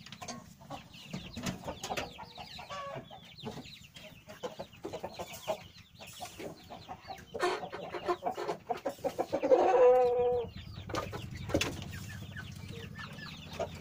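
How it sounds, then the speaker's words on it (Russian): Chickens and roosters cluck and squawk inside a henhouse, a steady close chorus of overlapping calls with a louder burst of agitated clucking midway. "А вот и петушки."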